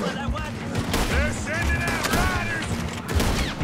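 Gunfire in the Red Dead Redemption 2 video game, during a bank robbery, crackles in quick bursts of sharp shots over rumbling background game noise, with several rapid reports close together.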